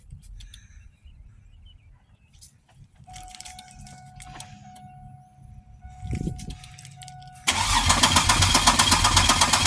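A 2002 Pontiac Grand Prix GTP with a vacuum line removed cranks, with brief clicks and hums at first, then a sudden loud, steady roar of the engine catching or cranking hard that carries through to the end.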